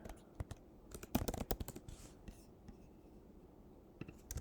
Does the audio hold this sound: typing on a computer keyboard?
yes